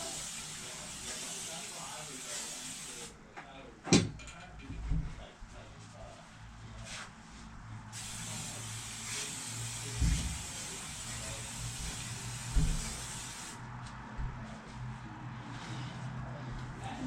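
Spray bursts hiss over a mattress being treated against mites and bugs, several sharp sprays scattered between quieter stretches, with speech and handling noises in the background.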